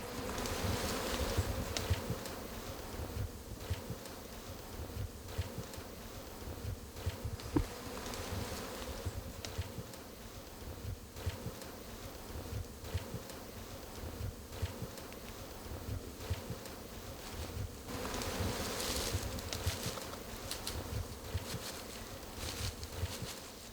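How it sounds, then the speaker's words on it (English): Honey bees swarm around a disturbed hive in an Indian forest setting, a dense, steady buzzing drone that fills the whole stretch without pause, close and continuous with no voices. "Another beehive disturbed leads to another attempt in building a new home."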